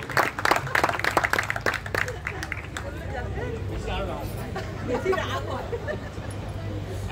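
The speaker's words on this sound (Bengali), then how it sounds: "আমরা একটু জোরে হাততালি দেবেন" An audience at a community cultural gathering claps in a short burst of sharp clapping, which fades into a murmur of crowd chatter and talk.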